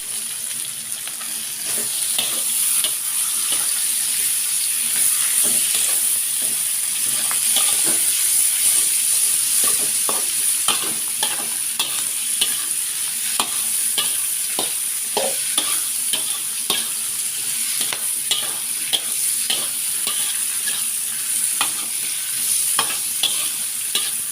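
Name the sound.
stir-frying cabbage and mustard greens in a pan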